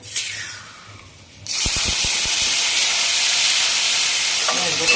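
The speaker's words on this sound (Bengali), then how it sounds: "তেলটা আমার গরম হয়ে গেছে, শুকনো লঙ্কা ফোড়ন দিলাম, হলুদ দিচ্ছি, একটু পেঁয়াজ বাটা" Dried chillies, turmeric and onion paste hit hot oil in a pan with a sudden loud sizzle, a few sharp crackles at the start, then a steady close hiss that carries on without pause.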